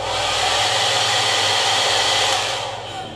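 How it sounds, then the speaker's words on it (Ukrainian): A hair dryer in a hotel room in Egypt blows loudly and steadily close by, a constant whooshing roar that fades slightly at the end; no one speaks. "і фен також в наявності"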